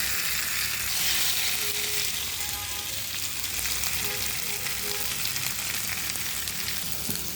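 Slices of beef chap frying in a pan over medium-low heat give a steady, close, continuous sizzle and crackle with no talking.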